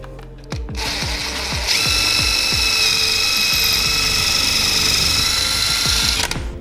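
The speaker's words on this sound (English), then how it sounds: "line up my drill right in the center of that hole" Power drill boring through a hole while mounting a frame to a wall, a steady whining motor running close and loud for several seconds, with rhythmic low clicking throughout.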